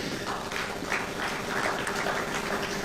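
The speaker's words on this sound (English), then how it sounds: "Let's give her a round of applause" Audience applause for a UNHCR guest at a high-level refugee dialogue event, a steady dense clapping that holds at an even level throughout.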